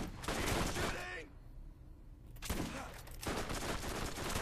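Gunfire in the video game Borderlands, Secret Armory of General Knoxx DLC: loud, rapid volleys fill the first second and resume after a short lull, continuing steadily to the end, with someone talking over the shooting.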